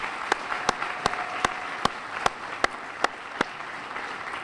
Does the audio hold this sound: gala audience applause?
yes